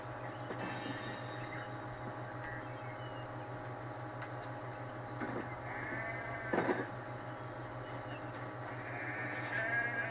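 Sheep bleat faintly in Assassin's Creed III over a constant low droning hum, with a few short bleats scattered across the scene.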